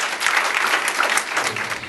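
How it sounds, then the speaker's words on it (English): Enthusiastic audience applause at a YWCA gathering, a short burst of dense, lively clapping at close range with no voices over it. "I'd like everyone to give Janice a really resounding round of applause"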